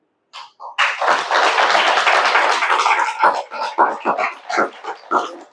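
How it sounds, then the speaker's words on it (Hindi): Audience clapping during a spiritual talk on positive thinking, a burst of loud clapping that holds steady for about two seconds and then breaks into scattered, fading claps. "इसलिए मैंने कहा बीच बीच में ताली बजाना।"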